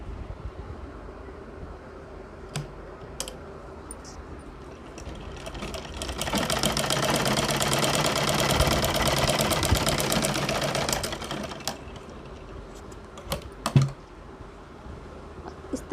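A sewing machine stitches a fabric strip onto a boat neck kurti in one sustained whirring run of about five seconds, framed by quieter stretches with a few scattered clicks and no voices.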